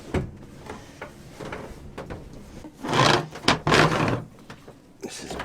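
Water maker filter housing on a sailboat being opened and handled, close rubbing, scraping and knocking of plastic parts in a cramped space, with bursts of louder fumbling.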